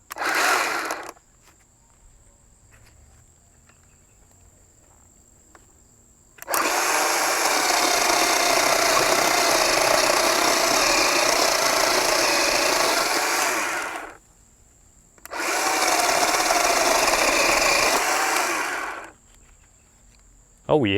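A Worx WG323 20V cordless pole saw chainsaw cuts wood in two long, loud, steady motor-and-chain bursts of about seven and four seconds, separated by brief pauses with a faint background whine.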